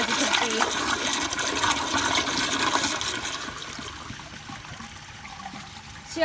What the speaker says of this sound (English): See, it's still trying to flush, but it's still a little bit weak, so it won't fully flush